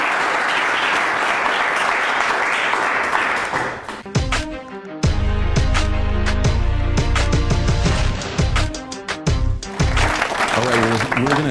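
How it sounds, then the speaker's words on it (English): Audience applause after a talk, a steady broad wash of clapping for about four seconds, then music with a strong beat cuts in while the clapping continues faintly underneath and swells again near the end. "Brady Nelson, let's give him a round of applause."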